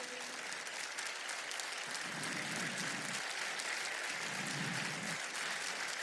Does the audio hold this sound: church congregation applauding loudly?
yes